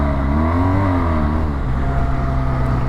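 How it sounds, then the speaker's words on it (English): Car engine revving hard in sixth gear with a badly slipping clutch, a steady loud drone with rising and wavering engine tones, heard alone without talk. "Slipping clutch, really bad."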